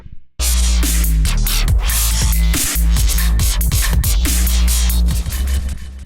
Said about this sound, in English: make sick dubstep bass sounds using only the instruments and effects that come with Ableton